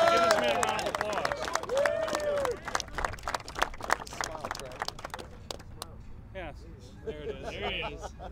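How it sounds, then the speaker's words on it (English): A crowd claps for an award recipient at a Good Works Team award presentation, brisk applause that thins out over several seconds while voices carry over it. "give this man a round of applause"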